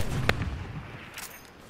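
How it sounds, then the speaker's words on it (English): A giant cannon in a video game fires once with a sharp, heavy boom near the start, then a rumbling tail and a second fainter crack later, fairly loud and without talk. "It is a giant cannon."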